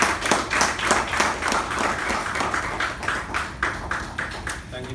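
Audience applause from a gathering greeting a speaker at a meeting, steady rhythmic clapping from many hands filling the room for several seconds.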